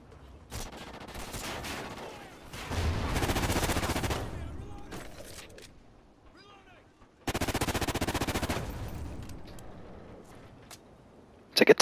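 Rapid bursts from a tap-fired gun in Call of Duty Ghosts, two loud dense volleys a few seconds apart with quieter game noise and a voice talking between them.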